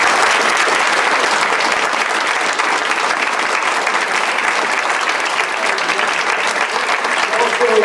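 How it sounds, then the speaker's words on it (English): An audience applauds a keynote speaker at PAH-Fest in Motown, the clapping dense and steady from start to finish with no clear break. "I'd love to give you a big round of applause."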